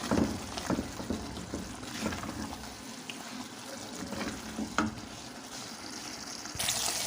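Ridge gourd (tori) with masala frying in a pan, giving a steady, fairly quiet sizzle with soft stirring scrapes and small crackles running throughout, with no voices.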